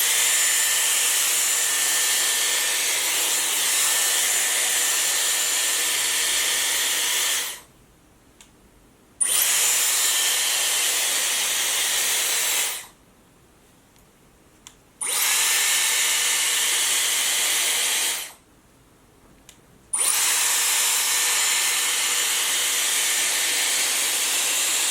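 A Dyson round volumising brush blow-drying hair gives a loud, steady airy whir in four long runs, cut off by three brief pauses of near silence.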